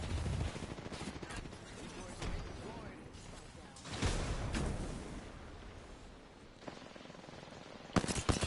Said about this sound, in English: Eat a thermite grenade.